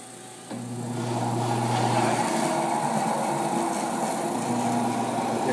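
A DoAll 36-inch vertical bandsaw starts up in its high gear range, a steady mechanical whir with a low hum rising in at once and holding even and close throughout.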